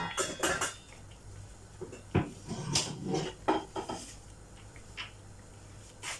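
Pot lid and pans clatter during cooking of Chinese spinach, a few quick metallic clinks and knocks up close. A scattered, light pattering runs between them.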